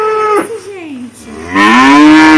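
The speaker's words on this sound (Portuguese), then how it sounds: "é o som da vaca." A cow on a farm moos twice: a short call early on, then a longer, louder, drawn-out moo that swells and holds to the end, heard alone without talk.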